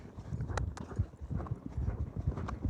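Horse hooves clip-clopping in a steady running rhythm on the ground, close and continuous, during a reining sliding-stop training session, with no talk over the galloping footfalls.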